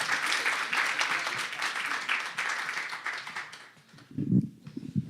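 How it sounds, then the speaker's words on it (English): An audience applauds to welcome a speaker to the podium, a dense burst of clapping that fades over a few seconds before some low thumps and movement near the end. "Let's give him a big round of applause and welcome up to the podium."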